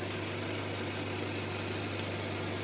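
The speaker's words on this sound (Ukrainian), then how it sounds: "На 2008 рік мотор працює рівненько" A 2008 Skoda Octavia A5 engine idles with a steady, even hum and a constant low drone, unbroken throughout with no voices.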